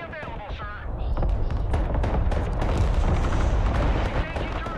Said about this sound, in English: Firing artillery there.